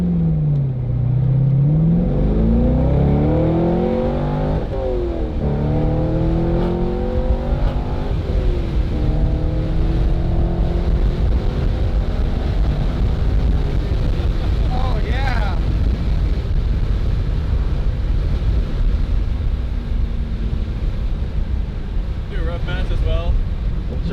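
Inside a 2004 C5 Corvette with a Corsa Extreme axle-back exhaust and the windows down, the engine rising through hard acceleration and shifts, then settling into a steady drone with wind rush throughout.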